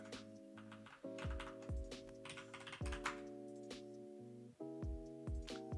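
Quick, crisp keystrokes clatter on a computer keyboard, tapping in rapid bursts with short pauses, close by and alone without talk.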